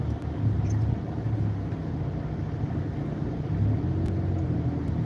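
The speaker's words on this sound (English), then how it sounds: "Just heavy traffic right now." Heavy expressway traffic heard from inside a moving car: a continuous low road rumble and tire drone at steady loudness, with faint passing swells and no talking.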